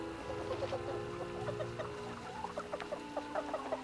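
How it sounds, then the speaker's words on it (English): Chickens in the video game Baldur's Gate 2 cluck softly, with many short, scattered clucks and chirps over a low, steady game background hum. "Making little chicken noises at me."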